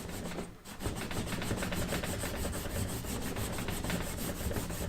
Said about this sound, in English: we're just going to rub it in like a crayon. And so we're going to apply this evenly over the surface.